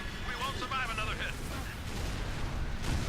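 A MAC cannon fires in Halo Reach with a deep, rumbling artillery-like boom and a booming roll through the whole stretch, with game voices and talk layered over it.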